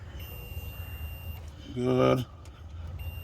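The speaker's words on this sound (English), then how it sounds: "You'll hear beep, it means continuities through there." A multimeter continuity test sounds a single clear electronic beep lasting about half a second during work on a 2005 Ford E-150 starter circuit, over low background hum, followed by a brief spoken word.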